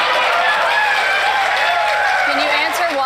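Town hall audience applauding, a dense, steady wash of clapping from a crowd filling the room, with speech heard over it.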